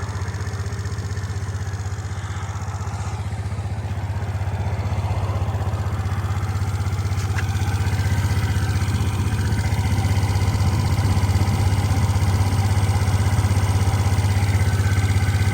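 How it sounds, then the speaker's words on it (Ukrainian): A Suzuki Lets 4 fuel-injected scooter engine idles steadily with a low, even putter and a faint mechanical clatter, running close by with no voices. "Гарно працює двигун"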